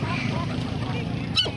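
Fowl at a busy poultry market in Khyber Pakhtunkhwa, a dense crowd-like murmur with a brief honking bird call near the end, all under steady market noise.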